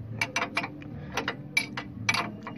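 A wrench working on the steering bar of a pickup truck's suspension, giving quick bursts of metallic ratcheting clicks close by, in short irregular runs.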